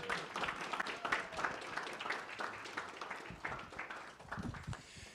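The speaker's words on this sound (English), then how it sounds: "How about another round of applause for the Academy and Stephen?" At a music festival concert event, an audience applauds with a moderately quiet, continuous patter of many hands that rises and falls over several seconds.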